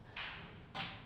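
Two quick sharp clicks of a cue ball striking an object ball and sending it into the pocket during a pool pairs match, crisp and close, spaced about half a second apart, with no talk over them.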